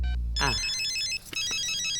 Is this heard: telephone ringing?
yes